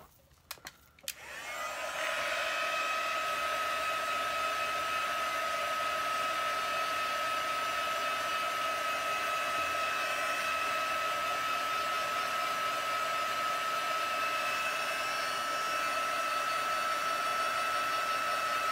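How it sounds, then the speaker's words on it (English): A heat gun blows steadily to heat and dry a craft piece, a loud, even whooshing drone with a faint high whine that starts after a brief click and runs without pause. "I'm going to take my heat gun and heat this up again"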